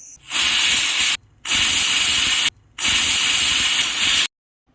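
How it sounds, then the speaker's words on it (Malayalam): A pressure cooker's loud, steady hiss of steam blasts in three long bursts separated by brief pauses, close and forceful. "കുക്കർ മൂടി വെച്ച ശേഷം സ്റ്റീം വന്നതും വെയിറ്റ് വയ്ക്കാം"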